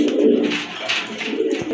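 A pair of white Indian Bombay pigeons coo close by, soft throaty rolling calls repeating steadily through the short stretch with no voices over them.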